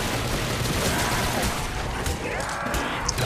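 In Call of Duty Zombies on the Moon map, Mustang and Sally pistol rounds explode among zombies in a dense, continuous barrage of blasts and crackling gunfire, loud and close, with game noise layered on top.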